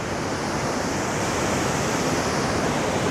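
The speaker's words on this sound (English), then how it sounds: "So you can see the water is crashing down over there, and that's just creating that white water." A waterfall pours down into churning white water, a steady, loud, broadband roar that holds constant throughout with no pauses and no voices.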